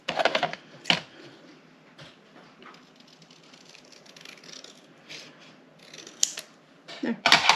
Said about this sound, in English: and freehand cut this side.